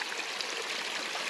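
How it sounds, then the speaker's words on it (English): A small spring-fed stream in a valley flows with a steady, even hiss and soft babble, continuous and moderately near with no voices. "Could hear water down here off in the valley, so I skirted down here to see. Pretty awesome little water source."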